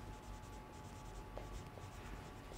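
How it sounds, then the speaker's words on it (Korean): Chalk or marker scratching across a classroom board as a teacher writes English example sentences during a grammar lesson, steady continuous strokes with a few sharper taps, close and alone with no talk. "이렇게 두 가지만 한번 써볼게요."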